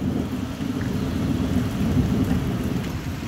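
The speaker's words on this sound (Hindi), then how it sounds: "ये देखिए कितनी बारिश हो रही है, यहाँ पे बहुत बारिश हो रही है" Heavy rain pours continuously in Dehradun with a deep, rumbling undertone like distant thunder, steady and loud, no voices present.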